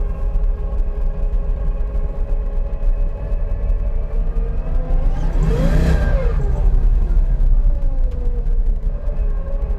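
A V8-swapped Subaru BRZ with a 1UZ engine accelerates hard with some wheel spin, the rumbling engine note rising loudly to a peak mid-clip and then easing off, heard close from inside the car.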